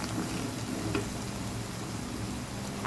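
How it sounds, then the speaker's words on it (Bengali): Beef pickle sizzles steadily in an uncovered pan, a continuous close frying hiss with faint soft stirring clicks and no voices. "এখন ঢাকনাটা উঠিয়ে নিলাম, আর একটু ভেজে নিব।"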